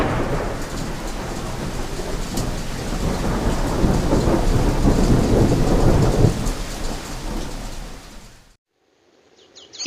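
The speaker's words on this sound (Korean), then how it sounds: "시간이 흐르자 차가운 비가 내리기 시작했다" Cold rain falls hard with rolling thunder rumbling through a dramatic storm sound effect, a loud sustained roar that cuts off abruptly near the end, leaving a brief near-silence before a faint swell returns.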